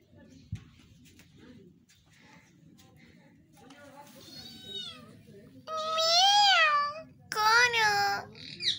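A cat gives several loud, drawn-out meows in the second half, each stronger than the last, after a quieter stretch of faint rustling and soft background noise around a house.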